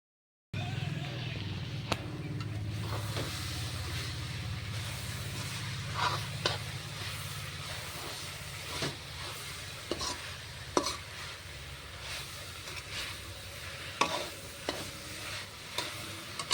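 Grated coconut coated with jaggery fries in a pan, a continuous soft sizzle broken by repeated scraping strokes of a spatula stirring the mixture.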